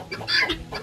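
A farmyard hen wanting to lay an egg gives a short, close cluck, a brief nasal call lasting under a second.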